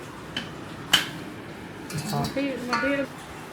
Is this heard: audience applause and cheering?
no